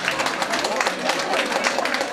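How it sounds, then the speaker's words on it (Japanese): An audience claps steadily at an outdoor park golf award ceremony, a dense, even patter of many hands held at a constant level throughout. "皆さん、もう一度大きな拍手をお願いいたします。"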